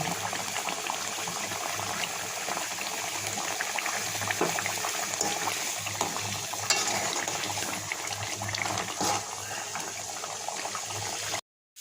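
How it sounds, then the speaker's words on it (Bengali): Fish curry broth with roasted cumin powder bubbles steadily in a pot, a soft, even simmering burble that continues uninterrupted before cutting off abruptly. "এতো তো মাছের পানি ফুটে উঠেছে এবার এই যে একটু ভাজা জিরার গুঁড়া দিলাম"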